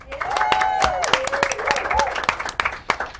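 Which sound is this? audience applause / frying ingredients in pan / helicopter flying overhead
audience applause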